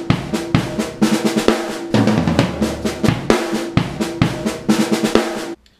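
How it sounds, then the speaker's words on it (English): Loud drums drive a fast beat, with a thirty-second-note tom fill tumbling from rack tom to floor tom between cymbal crashes and kick hits. "I do a 30-second note tom fill between the rack and the floor"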